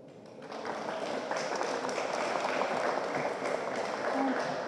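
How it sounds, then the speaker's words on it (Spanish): Audience at a university talk on water distribution and climate change applauds a student speaker, a steady, moderately loud patter of clapping that starts abruptly and holds throughout. "para quien pido un fuerte aplauso."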